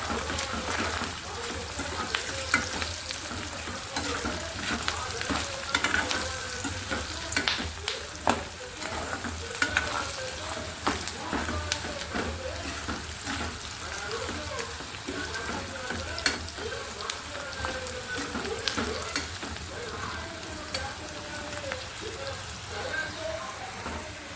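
Onions frying in a pan with turmeric and salt for bitter gourd curry, a dense continuous sizzle and crackle with frequent stirring scrapes throughout, close and fairly loud, no talking.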